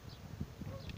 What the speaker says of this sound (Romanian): atât florile cât și albinuțele, care nu mai termină cu strânsul nectarului